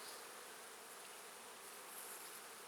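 Honey bees buzz steadily around an open hive while the queen is placed inside. The swarm's dense, even hum carries through the whole stretch with no talking.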